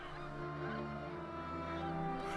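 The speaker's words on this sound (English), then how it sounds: "Snow geese." A flock of snow geese on the Great Plains, a dense chorus of overlapping honks and calls sounding steadily and fairly loud throughout, with no voices.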